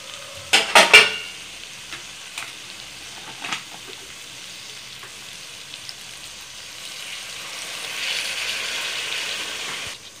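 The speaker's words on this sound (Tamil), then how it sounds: "இந்த மசாலா எல்லாம் இதில் நல்லா மிக்ஸ் ஆகட்டும்." Masala being mixed into mango pickle in a hot pan: a few sharp spoon clanks against the metal at the start, then a steady soft sizzle that swells slightly toward the end, close and free of speech.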